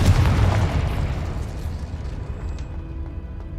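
A Confringo spell explodes in the Hogwarts Legacy video game, a loud booming burst at the start that rolls off into a fading low rumble, with no talk.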